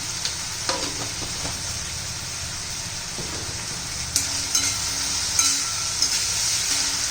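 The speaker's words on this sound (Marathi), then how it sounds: "स्वच्छपणा जाईपर्यंत आपण टोमॅटो परतणार आहोत" Salted tomatoes sauté in a hot pan for a cauliflower curry, giving a steady bright sizzle with a few clinks of a stirring spoon near the end.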